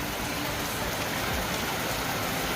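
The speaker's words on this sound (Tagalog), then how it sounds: "Napakalakas ng ulan" Heavy rain pours steadily in a dense, continuous hiss with no breaks and no voices.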